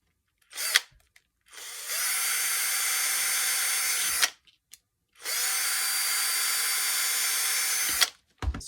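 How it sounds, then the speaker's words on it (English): A handheld power drill bores into a plastic skeleton prop held outside a vise, two steady whirring runs of a few seconds each separated by a pause, with brief clicks at the start and end. "use care when drilling this"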